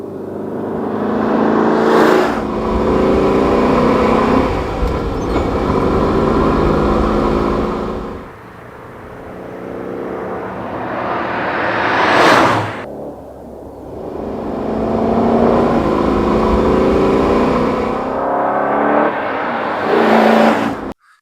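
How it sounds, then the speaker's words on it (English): An Alfa Romeo Montreal's V8 engine revs hard in two long surges, climbing in pitch, dropping back, then rising again, loud and close with a sharp final blip and no talk. "The Montreal's V8 produced a symphony that blended mechanical precision with unbridled passion"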